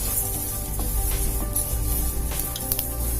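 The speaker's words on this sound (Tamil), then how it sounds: "எள்ளு நல்லா பொரியணும்" Sesame seeds fry in a pan over low heat for a curry leaf powder, producing a close, continuous crackling sizzle with small popping bursts and no voices.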